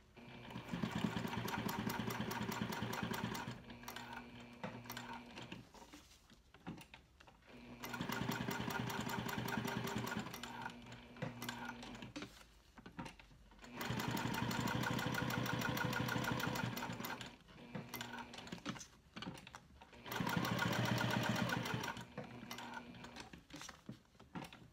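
A sewing machine stitches a vinyl wallet ID panel in steady motorized bursts, a close, buzzy whirring that runs for a few seconds, pauses briefly, then starts again, repeated four times without talk.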